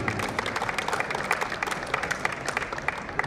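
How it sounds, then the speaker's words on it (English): Steady applause from an event audience honouring a sponsor from Auto Hangar at a members' premier league match day, dense clapping sustained throughout at a moderate, even level with no voices. "a huge round of applause again for our sponsor from Auto Hangar, Karan sir"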